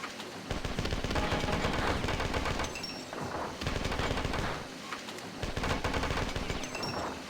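Assault rifle fire in a video game: loud, close rapid-fire bursts in three sustained volleys separated by brief lulls, with no voices over them.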